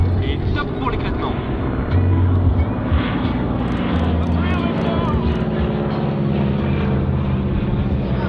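A Stearman PT-17 biplane drones overhead during an air show display, its steady radial-engine roar loud and continuous, with a commentator's voice over it.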